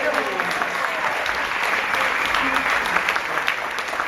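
Audience applause at an outdoor pirate-themed music show on the prairie after a band's set, a broad, sustained wash of many hands clapping at a fairly distant, steady level, with voices faintly mixed in.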